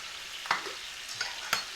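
Potatoes frying in a pan over low heat, a soft steady sizzle with a few light scraping stirs of the spoon, close and quiet, no voices.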